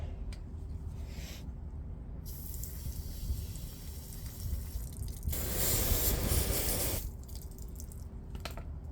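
Homemade shoe cleaner spritzed from a spray bottle, a few short hissing bursts with one longer, louder spray near the end, close by and with no talking.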